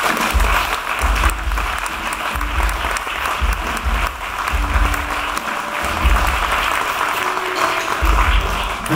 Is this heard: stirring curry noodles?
no